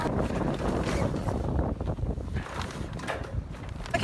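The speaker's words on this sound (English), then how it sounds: "The wind's picked up a bit, so it's a bit tricky." Wind gusting over a sailboat at anchor as its old sails are flaked, a steady loud rushing buffet on the microphone with faint rigging and water noise underneath.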